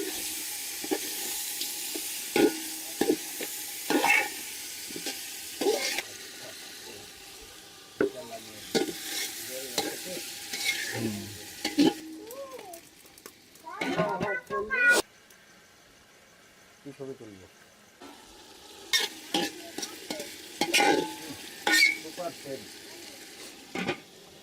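Meat stir-fried in a spiced masala in a pan during village cooking: repeated scraping and stirring strokes over a low sizzle, with brief pauses between bursts of activity.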